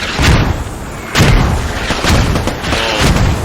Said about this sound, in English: Those mortars are landing deadly accurate on the radio